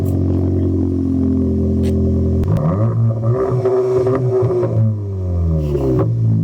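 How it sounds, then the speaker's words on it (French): A Cupra Ateca SUV engine idles loudly up close with a deep exhaust burble, then blips into several revs that rise and fall before easing back down. "On va démarrer parce qu'il y a une ligne d'échappement quand même."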